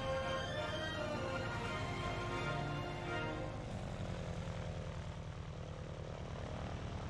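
Propeller plane engine in The Adventures of Tintin video game, a steady, loud droning buzz with a rapid pulsing flutter that holds throughout without pause.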